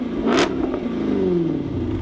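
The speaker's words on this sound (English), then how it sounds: "Rev the engine and it sounds like you should be sitting on the pole of the Daytona 500." A 2014 Jaguar XKR-S V8 blips once in a sharp, loud rev, then settles into a throaty, falling idle burble, heard close and alone.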